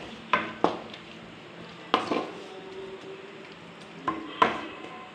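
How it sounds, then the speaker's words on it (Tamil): Masala powders get stirred into hot oil for a fish curry, with a faint sizzle beneath several sharp metal scrapes and taps of a spoon against the pan, spaced irregularly. "ஸோ இது எல்லாத்தையும் போட்டு இந்த எண்ணெயிலே வந்து நல்லா மிக்ஸ் பண்ணி விடுங்க"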